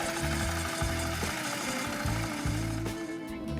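A small walk-behind tractor engine chugs continuously nearby, its low rhythmic knocking rising and falling as a KRN-01B rotary mower runs off it through reduction gears.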